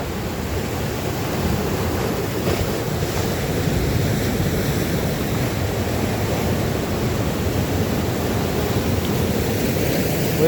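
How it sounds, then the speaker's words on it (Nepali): Sea waves break on a coastline in a steady, loud wash of surf mixed with wind rumble against the microphone, continuous and without voices. "यो छाल हेर्नु त कस्तो हानेको छ"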